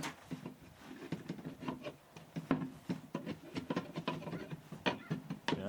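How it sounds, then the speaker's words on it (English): Homemade black powder for muzzleloaders is scraped loose from a surface, giving a run of short, quiet, gritty rasping strokes in an irregular rhythm, close by and fairly soft. "there I am trying to scrape it loose"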